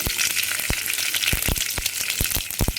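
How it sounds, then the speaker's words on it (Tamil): Mustard seeds and urad dal temper in hot oil in a kadai for tomato rasam. A steady hiss carries a quick series of sharp, close pops and crackles, and no one speaks. "கடாய் வச்சு ஆயில் விட்டாச்சு கடுகு உளுந்த பருப்பு போட்டு தாளிச்சு"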